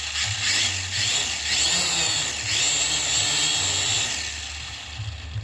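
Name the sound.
Syma X5SW drone brushed motors spinning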